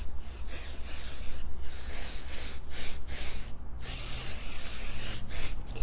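Aerosol can of spray adhesive hissing onto the back of a quilting ruler in a sewing room, several short bursts separated by brief pauses, close and fairly loud with no talking.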